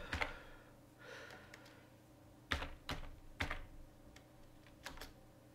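Typing on a computer keyboard while entering a git commit message, with scattered clusters of light key clicks and a few sharper presses, close and fairly quiet, with no speech.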